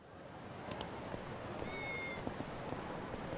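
A cat in the video game Lost Judgment gives a short, faint meow against a low, steady background hum, with a few soft clicks around it.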